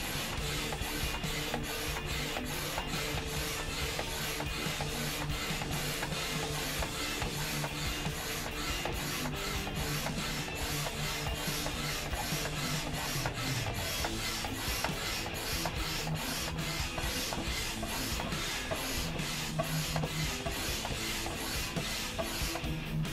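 An Intex Excursion Pro inflatable kayak is pumped up by hand. A steady, fast train of rhythmic rasping, rubbing strokes repeats without a break, close and constant, with no talking.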